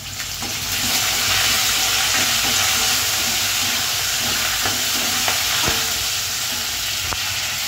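Dried red chillies, green chillies and curry leaves sizzle loudly in hot oil, a constant close crackling hiss with a few small pops, no talk.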